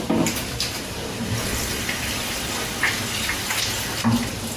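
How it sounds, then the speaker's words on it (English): Hands being washed under a running tap, a steady close rush of water with brief splashes and rubbing, heard alone without talking. "I am washing my hands."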